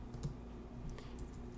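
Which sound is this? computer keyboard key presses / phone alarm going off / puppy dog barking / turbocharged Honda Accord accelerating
computer keyboard key presses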